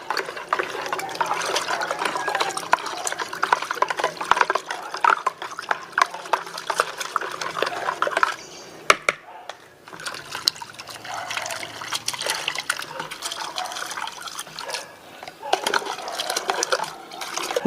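Rice flour is stirred into rice-washing water, with continuous wet swirling and trickling sloshes close by, steady throughout apart from a brief pause in the middle.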